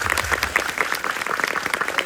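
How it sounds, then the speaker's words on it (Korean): Applause from an audience at a film festival talk in Busan, dense and steady clapping filling the hall with scattered sharper claps standing out, no voices over it. "이창동 감독님 큰 박수로 마무리해주시죠."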